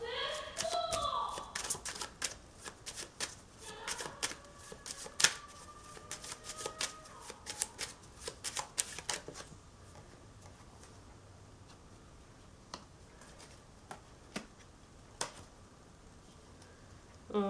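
Tarot cards being shuffled by hand, a close run of quick crisp riffling snaps and slaps that thins to scattered soft card taps, with a voice heard briefly at the start.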